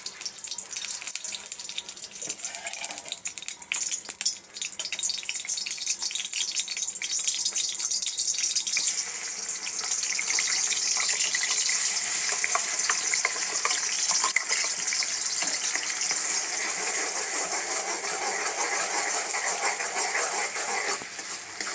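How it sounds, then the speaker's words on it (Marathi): Gravy pours steadily into a pav bhaji pan, making a continuous splashing, sizzling wash that holds close and fairly loud throughout, with no voices. "मी आता हे टाकत आहे ग्रेव्ही"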